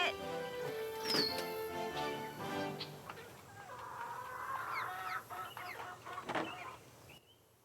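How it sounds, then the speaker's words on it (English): Chickens on a ranch in the Nancy Drew game The Secret of Shadow Ranch cluck and squawk repeatedly at close range, with bursts of bird calls and scattered rustling over a steady farmyard background. "Okay, chickens, come and get it."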